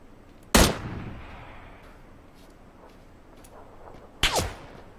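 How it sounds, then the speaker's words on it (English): Two sharp gunshots ring out in PlayerUnknown's Battlegrounds, one near the start and another near the end, each a loud crack with a short echoing tail over a quiet background, no speech. "he's shooting at me too"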